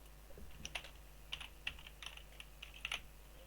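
A login being typed on a computer keyboard, with quiet, irregular key clicks in short bursts close to the microphone over a low steady hum.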